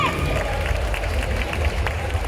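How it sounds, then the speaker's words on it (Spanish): Audience applause for four semifinalist athletes at a men's physique senior (up to 1.70 m) bodybuilding awards ceremony, a steady dense wash of clapping and crowd noise filling the room throughout. "Fuerte el aplauso para los cuatro."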